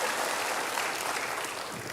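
A church congregation applauds in a steady, dense wash of many hands clapping together, sustained and even for the whole moment with no voices standing out.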